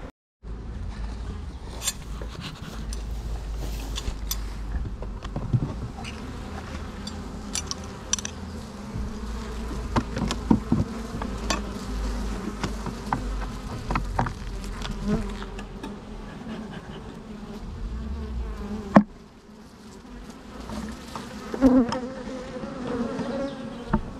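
Honey bees buzz steadily around a small nucleus hive holding a swarm, a dense continuous drone of many insects close by that carries on with little change before a brief dip near the end.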